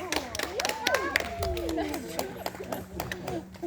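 A crowd at a Stand Rock show in Wisconsin Dells claps and cheers for Rocky, a German Shepherd, with scattered sharp claps under excited voices and calls across the whole short stretch.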